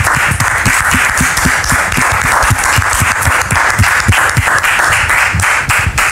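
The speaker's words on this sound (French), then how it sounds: "Public, merci de la recevoir avec vos applaudissements" A studio audience applauds loudly and steadily as a guest is welcomed, with dense, continuous clapping that holds at a constant level throughout.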